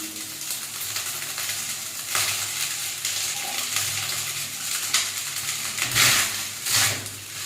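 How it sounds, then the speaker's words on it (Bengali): Vegetables for a quick breakfast fry and get stirred in a pan, a steady close sizzle with scraping spatula strokes that swell louder near the end, no talking. "এই হচ্ছে সবজি ভাজা"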